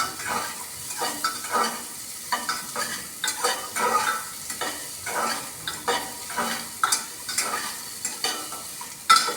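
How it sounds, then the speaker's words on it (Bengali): Papaya pieces stirred and turned in hot oil, giving repeated scraping strokes in a steady rhythm over a soft sizzle, with no talk. "তেলের মধ্যে এপিট ওপিট করে নেড়ে নেব। দু তিনবার নাড়াচাড়া করে নেব।"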